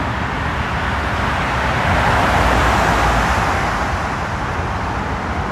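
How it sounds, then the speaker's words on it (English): Steady, close roadway traffic noise on a New York City street in early morning, a continuous broadband rush of cars and other vehicles with no clear breaks or talk. "Does my equipment exaggerate traffic noise?"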